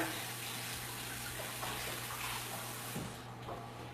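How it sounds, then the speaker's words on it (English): Tap water runs steadily in a kitchen sink while a hand is rinsed under it, making a soft, continuous splashing that sounds faint and somewhat distant. "Let me rinse my hand off."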